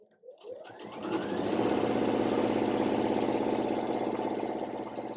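A bernette b77 sewing machine spins up from a few starting stitches into a steady, loud mechanical whir at full speed of about 1,000 stitches per minute, running continuously and close with a rapid rhythmic chatter.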